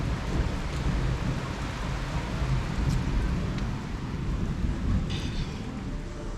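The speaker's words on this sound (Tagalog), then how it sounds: "Ayan, umuulan pa rin." Steady rain falls and spatters on wet concrete nearby, a dense constant hiss with occasional drips and no voices.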